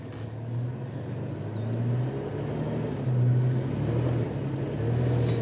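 A 4x4 vehicle pushes through soft sand on Fraser Island, its engine a steady low rumble that swells in waves as the driver builds momentum, heard from inside the cabin with a few faint bird chirps early on.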